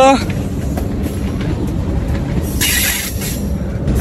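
A train rumbles low and steady from close by as it begins pulling away on a Faridpur to Kalukhali rail journey, with a brief bright metallic squeal near the end and faint voices under the noise.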